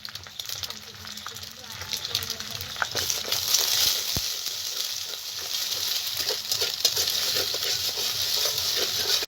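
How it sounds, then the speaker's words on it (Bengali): An egg fries in hot white oil in a kadai, giving a continuous crackling sizzle that swells slightly partway through, with a low voice murmuring underneath. "তেল গরম হয়েছে, ডিমটা ভেজে নেব।"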